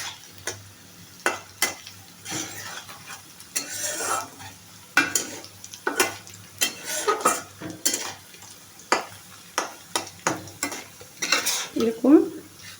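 Cabbage fried and stirred in a pan, with repeated scraping and clinking of a utensil against the metal in irregular bursts over a faint sizzle, close and moderately loud, no talking.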